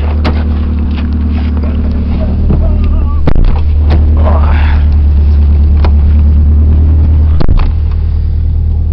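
An old Dodge Shadow-style compact car drives around the block, its engine a steady loud low rumble from inside the cabin with a few sharp knocks and bumps, and a voice talking now and then.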